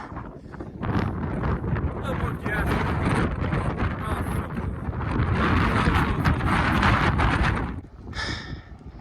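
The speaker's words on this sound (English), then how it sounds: "The wind is beating you up, man." Strong, steady wind roars and buffets the microphone for several seconds on the summit of Mount Washington, loud and continuous, dropping briefly near the end before gusting again.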